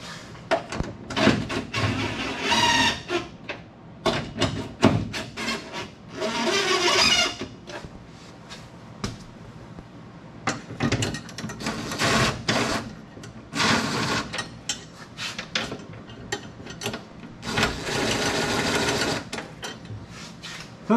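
Bolting in a TH400 automatic transmission with a Hipster transbrake, repeated whirring bursts of a power tool driving bolts, each a second or two long with pauses between, close and loud throughout.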